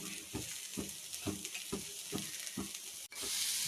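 Tomato and onion pieces stirred into sweet corn chaat with a spoon, giving regular scraping strokes about every half second over a steady sizzle-like hiss, close and clear, with no talking.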